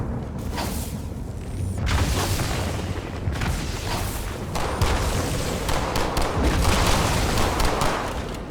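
A grenade explodes amid a firefight in the Halo 2 video game, heavy booms and crackling gunfire rolling continuously at loud volume, with faint game voices underneath.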